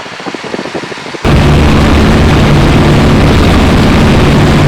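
A 65 hp Piper J3 Cub light taildragger aircraft in flight, its engine droning steadily and loud with heavy wind buffeting; quieter rumble for the first second, then a sudden jump to a constant, dense roar.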